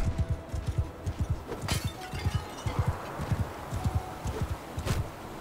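Steady clip-clop of horse hooves at a brisk, even rhythm, close by, with a couple of sharper knocks and faint outdoor rustle.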